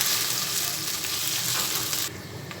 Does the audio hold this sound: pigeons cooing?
no